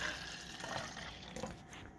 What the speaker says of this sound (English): Then when I'm done, I'm gonna pour the milk